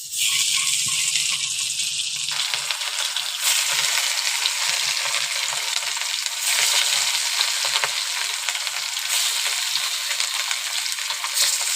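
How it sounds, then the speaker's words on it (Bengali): Fish frying in a hot wok gives a loud, sustained sizzle that swells and eases in waves, with occasional light rattles and no talking. "কড়ার মধ্যে মাছটা দিয়ে দিই।"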